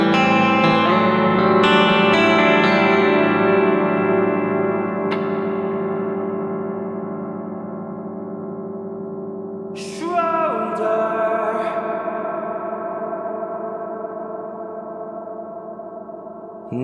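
A dense, metallic reverb wash rings out from struck tones, layered harmonics shimmering and slowly decaying, with a fresh metallic hit around the middle.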